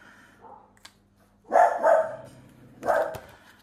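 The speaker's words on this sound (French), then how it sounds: "Ils allaient aboyer dehors" Dogs bark outside: a quiet yip early on, then two loud bursts of barking about a second apart, with low household noise underneath.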